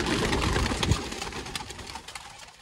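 A female pigeon is handled by hand, giving soft cooing and light rustling that fade over a few seconds, fairly quiet and close, with no speech.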